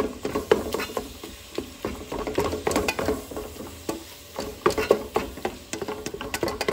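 Ground beef seasoned with garlic and onion powder browns and sizzles in a pan while a utensil repeatedly mashes and scrapes it, giving irregular close clicks and scrapes over a steady crackle.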